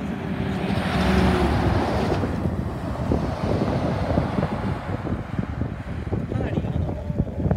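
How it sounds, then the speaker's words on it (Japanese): Strong wind blows outdoors beside a river, a constant loud roar and buffeting across the microphone with rustling, crackling gusts, continuing steadily throughout. "この辺り来ても、 かなり風吹いてますので"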